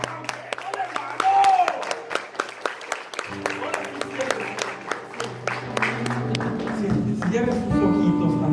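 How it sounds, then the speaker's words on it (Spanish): A church congregation claps continuously for several seconds, a dense crackle of many hands alongside sustained musical tones and a voice. "Dale un aplauso al Señor."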